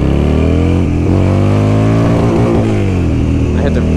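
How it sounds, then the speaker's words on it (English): A 2006 Buell XB12R sport bike engine revs hard up to its rev limit, a loud, steady harmonic roar with rising and bouncing pitch, heard close up and continuous throughout. "I hit the rev limit."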